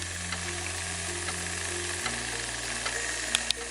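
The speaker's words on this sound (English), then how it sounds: "Listen to that sizzle." Pork chops sizzle steadily inside an Aukey 5.8-quart air fryer, a soft continuous hiss under a low fan hum that shifts pitch partway through, with a couple of faint clicks near the end.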